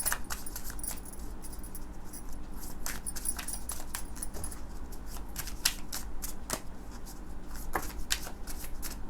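Tarot cards being shuffled by hand in quick, repeated riffling bursts, close and crisp, with no talking.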